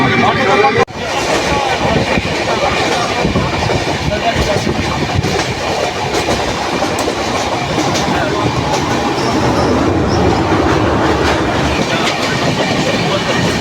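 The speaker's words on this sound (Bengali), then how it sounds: "আমাদের ট্রেন পার করছে দমদম," The 13153 Gour Express night train from Kolkata to Malda rolls past Dum Dum at moderate speed. A loud, continuous rumble with rhythmic wheel clatter fills the carriage while people talk over it.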